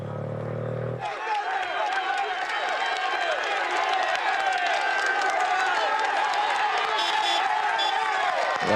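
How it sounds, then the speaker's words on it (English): Roadside crowd cheering Tour de France cyclists on a 2013 mountain climb: a loud, sustained roar of shouts and cheers swells in after a brief opening and fills the rest without letting up. "as we look here at the leader going up to the cheers of the crowd"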